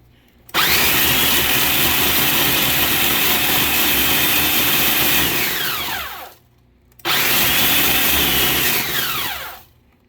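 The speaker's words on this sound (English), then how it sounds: "We're going to go ahead and blend these up. You can see it grinds up pretty fine." Countertop blender grinding freeze-dried radishes into powder, a loud steady whirring roar for about six seconds, a brief stop, then a second shorter burst that winds down, close up with no talking.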